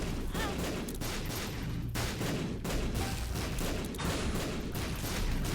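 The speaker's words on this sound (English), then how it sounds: "Just send out a lot of bombs" Repeated bomb explosions in The Binding of Isaac: Repentance, a rapid, dense run of sharp blasts fired in quick succession, loud and near, with short gaps between clusters.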